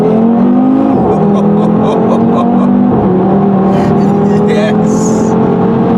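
A 500 bhp Audi TT RS revs its engine at a car meet, a loud, steady roar with pitch that rises and drops in repeated surges, with crowd noise underneath.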